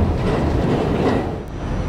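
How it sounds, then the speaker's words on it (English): Loud, steady rumble and rattle of a subway train rolling along the track, with a dense roar of wheels and carriage noise filling the whole moment and no speech over it. "The train does speed up, pick up speed, which is nice, but it does jostle a bit."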